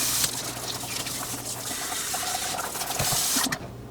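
A philodendron houseplant being watered, giving a steady close-up trickle and splash of running water that carries on throughout without any talking.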